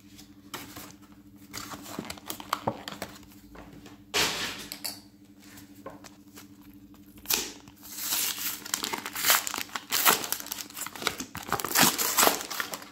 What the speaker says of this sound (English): we'll have a few packs to open